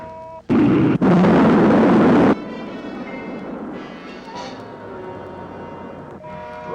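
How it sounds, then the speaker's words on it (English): A rocket's second stage firing in a 1958 science-fiction film, a sudden loud roaring blast lasting about two seconds, then a lower rumble under a faint musical tone. "Rocket 2, second stage. Fire."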